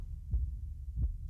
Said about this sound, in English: Not the heart. Don't do the heartbeat.